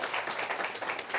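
Audience clapping in a hall, a brief dense patter of many hands with fairly even volume and no pauses.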